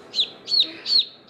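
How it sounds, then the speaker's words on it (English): A newly hatched chicken chick chirping indoors, three high, clear peeps evenly spaced and close by, with nothing else sounding between them. "Listen to him chirp. He's gonna wake the whole house tonight."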